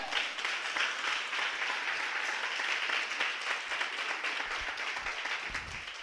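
A church congregation applauds during a sermon, a steady, even roar of many hands clapping that holds for several seconds without pause, fairly distant and uniform.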